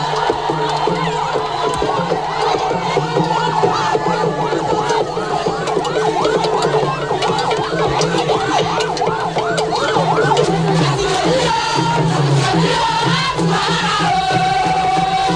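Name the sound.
crowd cheering in jubilation welcoming a king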